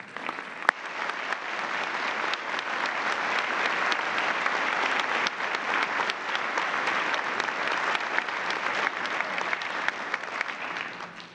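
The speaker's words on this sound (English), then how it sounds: "Please join us in a round of applause for all of our honorees." Sustained audience applause for honorees at a college of medicine honors and awards ceremony, a dense wash of many clapping hands that swells, holds for over ten seconds, then tapers off at the end.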